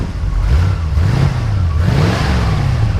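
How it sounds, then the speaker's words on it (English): A 1973 Ford F350 Super Camper with a 390 V8 and added 4-barrel carburetor revs up loudly and close, its engine note rising and falling in several sustained sweeps. "Go ahead and rev it up a little bit."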